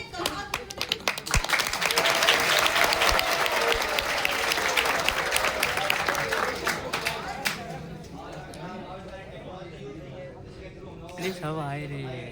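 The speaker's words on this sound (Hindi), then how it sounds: "ताली बजाओ ना" An auditorium audience at a regional science center claps in a dense, loud burst of applause that swells and then thins out, with voices talking as it fades.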